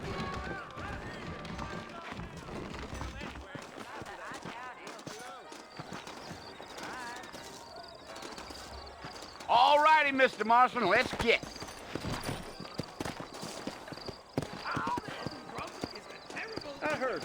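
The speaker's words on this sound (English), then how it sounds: "I got the horses saddled up and ready out front." Saddled horses clip-clop at a steady trot in the Western video game Red Dead Redemption, hooves loud and close, with a brief neigh and someone speaking over the hoofbeats.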